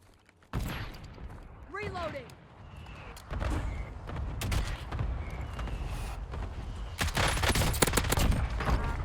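Bursts of rapid gunfire from the LADRA weapon in Warzone crackle in volleys that grow denser toward the end, with a brief whistling sweep early on.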